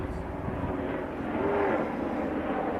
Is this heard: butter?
no